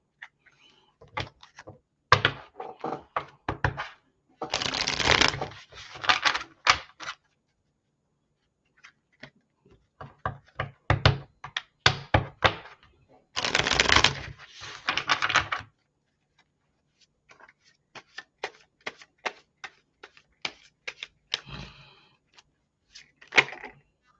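Tarot cards being shuffled and handled up close, with bursts of riffling and flicking between quiet gaps, and several longer, denser shuffles standing out, alone without talk.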